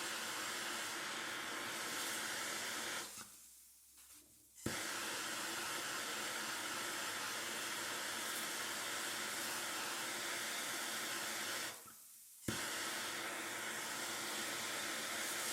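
Steam hissing in a continuous loud rush from a spinning homemade aeolipile, with two brief dips where the hiss drops away before surging back.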